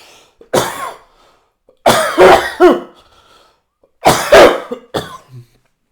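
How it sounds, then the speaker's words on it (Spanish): Three separate bouts of harsh coughing from a nearby person, each a short burst of two or three coughs with quiet pauses between. "Ahora voy a toser."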